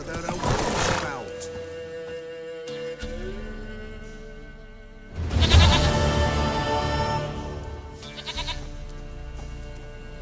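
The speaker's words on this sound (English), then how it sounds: "Goat of mine, dearest, sweetest goat." A goat in The Witcher 3 bleats in two loud bursts, one early and one midway, over steady game background sound, with another fainter bleat near the end.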